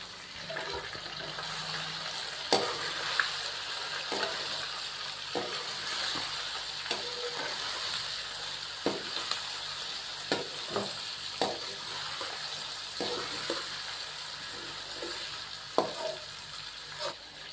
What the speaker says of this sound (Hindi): तो यहाँ पे चिकन की हम 3 से 4 मिनट के लिए भुनाई कर लेंगे